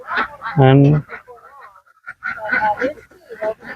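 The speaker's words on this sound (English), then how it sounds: "The geese come here too." Geese on a farm honk in a loud, close burst of repeated calls, with people talking before and after.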